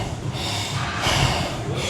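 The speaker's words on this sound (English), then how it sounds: "Panting like a 90-year-old woman." Heavy, noisy panting after a shoulder workout in the gym, with rough, breathy exhalations and snorts running steadily through a short stretch at close range, with no talk.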